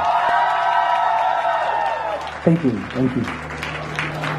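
A wedding audience claps and cheers for the groom at a live singing performance, a bright wash of applause fading as a voice speaks briefly over the tail end.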